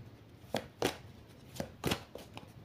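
A deck of cards being shuffled, several crisp riffling bursts in an uneven rhythm, close and fairly clear against a quiet background.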